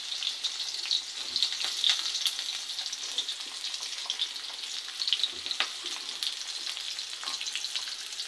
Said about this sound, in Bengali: প্রথমে তো পেঁয়াজ মরিচ ভেজে নিচ্ছে